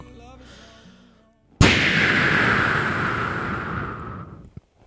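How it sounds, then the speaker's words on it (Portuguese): A smoke bomb firecracker gives a sharp pop after a quiet lull, followed by a loud, steady hissing rush that fades slowly over several seconds, ending with a small click. "Bombinha de fumo."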